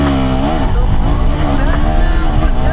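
A KTM 390 Duke motorcycle launches hard from a standstill, its engine roaring loud and close as it revs up, with a rough, throaty note that rises through the whole moment.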